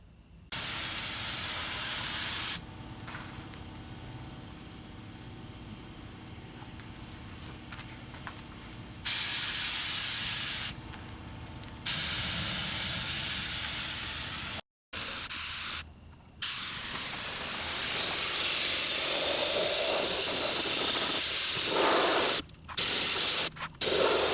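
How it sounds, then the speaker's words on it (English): A sprayer applying rust treatment to the frame of a bus gives loud, close bursts of hissing spray, several long blasts separated by short pauses and abrupt cut-offs, with no voices. "unfortunately, the sprayer didn't work as good as I hoped"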